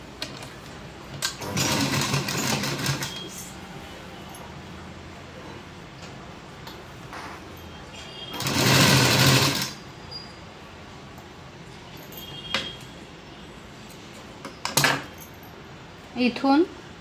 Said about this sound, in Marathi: आपण आता फायनल शिलाई असते ती मारून घेऊया।